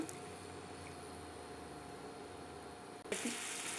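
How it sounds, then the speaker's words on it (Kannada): A steady stream of water runs continuously into a pan, then shifts to a brighter splashing flow toward the end. "ಇದಕ್ಕೊಂದು ಸ್ವಲ್ಪ ನೀರು ಹಾಕೊಳ್ಳೋಣ"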